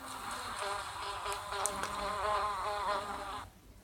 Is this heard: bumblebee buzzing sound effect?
yes